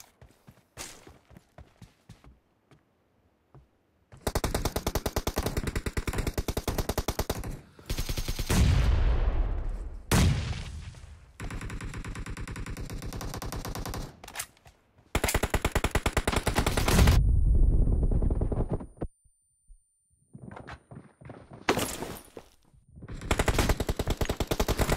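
Bursts of automatic gunfire from the video game PUBG Mobile in a Domination match, with loud rapid fusillades separated by short quiet gaps and a few single shots.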